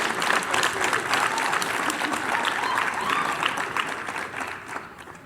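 An audience at a conference breakout session bursts into dense, sustained applause for arriving speakers, loud and close at first, then tapering slightly toward the end with no talking over it.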